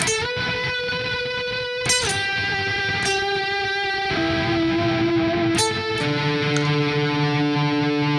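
A heavily distorted electric guitar plays sustained chords that shift every couple of seconds, loud and thick with buzzing overtones.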